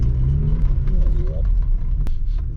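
A Volvo 850 T5-R driving, heard from inside the car as a loud steady low engine drone and road rumble, with a brief rising rev midway and people talking over it.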